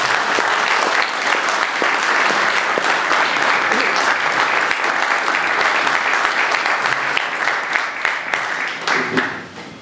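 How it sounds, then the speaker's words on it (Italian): Hearty audience applause fills the hall at an award ceremony presenting the Impronta Camuna prize to an admiral, dense and loud clapping that continues steadily before tapering at the end. "che fa un applauso"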